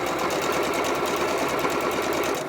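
A sewing machine chain stitches quilt squares for half square triangles, a close, loud, fast continuous rattling hum that runs without pause.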